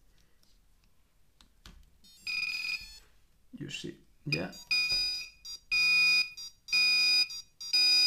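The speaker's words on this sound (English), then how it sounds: "And now when I will plug it, it should start to beep." Small drone buzzer from Banggood beeping after being plugged in: a run of sharp, piercing electronic tones in short bursts with gaps, then steady repeated beeps, loud and close, with brief clicks and a short spoken remark between.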